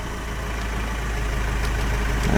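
The engine of a 2016 Opel Mokka X, started with a key, idles with a steady low rumble that builds slightly, close and continuous with no talking.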